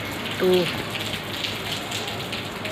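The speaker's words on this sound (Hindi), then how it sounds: "पूरी बारिश यहाँ पे हो रही है सुबह की बारिश।" Morning rain pours steadily outdoors in an Indian home, a continuous wash of hiss with a brief spoken word near the start.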